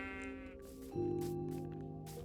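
A sheep bleats in Minecraft, a drawn-out wavering cry followed by a second lower bleat, clear and close with no voices.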